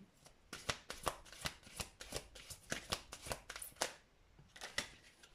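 Tarot cards being shuffled by hand, a steady run of crisp riffling bursts with a short pause near the end before a final flurry; close and fairly quiet, with no talking.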